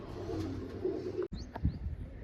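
Pigeons coo softly and steadily close by in a loft being cleaned, with low throaty calls, a brief thump and a light scuffle partway through.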